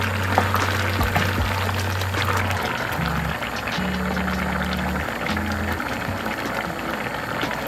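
Water is poured lightly into cashews and coconut in a grinder jar, a steady close pouring trickle running throughout over a low background tone of instrumental music, with no speech.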